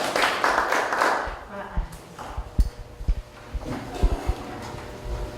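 An audience applauds to welcome a lecturer at a storytelling and heritage-guide training session in Gunsan. A dense burst of clapping fills the first second and a half, then thins to a few scattered claps and knocks.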